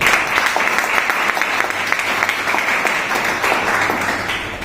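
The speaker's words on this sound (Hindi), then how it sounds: "एक बार जोरदार ताली होनी चाहिए अपने।" Audience applause at a one-day workshop and freshers' leaders meeting, a dense steady roar of many hands clapping together, loud and continuous throughout without a break.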